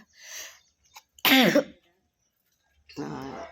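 One sharp, explosive sneeze bursts out, with softer breathy vocal sounds before and after and silence in between.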